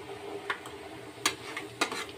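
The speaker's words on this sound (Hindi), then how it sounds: "मसालों को तेल में मैं भून ली हूँ, मसाले में तेल में ही भुना जाते हैं" Black pepper, cumin powder, garam masala, turmeric and salt roasting in hot oil, a soft steady sizzle broken by three or four light scraping stirs, close and fairly quiet.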